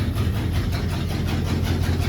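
Kaiser Jeep Gladiator J2000 with an AMC 327 V8 idling, a steady low rumbling loop with a lumpy pulse, close and continuous throughout.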